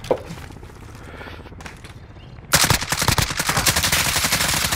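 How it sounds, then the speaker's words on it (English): Rapid bursts of video game gunfire from an enemy soldier firing at the player, loud and dense, with a sustained automatic volley erupting halfway through after quieter scattered shots. "Yeah, he's shooting me."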